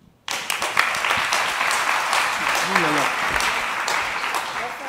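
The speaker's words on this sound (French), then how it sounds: "merci de l'applaudir." Applause breaks out suddenly for Alain Mabanckou at a French panel discussion on digital culture and cosmopolitanism, a dense, steady wash of many hands clapping that carries on without pause, with a voice briefly heard amid it.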